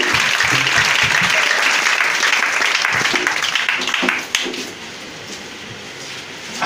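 A congregation at a Christmas Eve vigil service applauds and cheers, loud sustained clapping with crowd noise for about four seconds before it quickly dies down to a quieter murmur.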